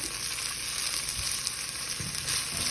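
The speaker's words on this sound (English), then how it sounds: "Do y'all like onions cooking?" Chopped onions fry with a steady, close sizzle in a pan while a utensil stirs them now and then, adding soft scraping bumps; no one speaks.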